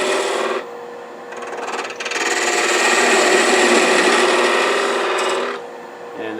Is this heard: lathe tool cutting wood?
yes